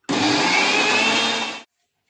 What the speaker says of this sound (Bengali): এবার আমি সবটা একসাথে আবার আমি মিক্সির মধ্যে দিয়ে পিষে নেব।